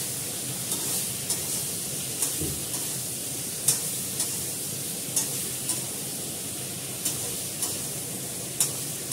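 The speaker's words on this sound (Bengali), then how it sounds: "ভালো করে লাল করে ভাজি, মানে পটলের যে জলা ভাবটা থাকে সেটা চলে যাবে।" Pointed gourd (potol) slices frying with salt in a pan, a steady close broadband sizzle with periodic light clicks and scrapes of stirring over about nine seconds, no voices.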